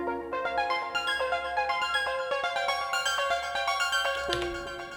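An Elektron Digitone and Digitakt techno pattern runs in fill mode, with higher-pitched synth parts over the beat that build energy, then shift near the end into a different bar.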